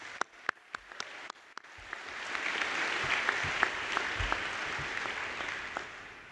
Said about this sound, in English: So a little bit of applause for those who've made it possible.